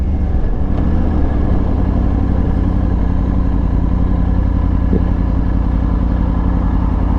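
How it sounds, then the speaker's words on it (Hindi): Triumph Tiger 900 motorcycle with L-twin-style firing order idling, a close, steady low rumble with light mechanical clatter and a faint whistle riding over it, continuous and even. "That whistling is there, but because of the firing order difference, it's definitely an L-twin."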